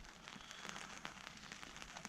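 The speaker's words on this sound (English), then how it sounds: "we can't because it's raining" Rain patters on a tent at a wilderness canoe camp, a soft, dense hiss broken by irregular drops tapping close by, quiet and steady with no voices.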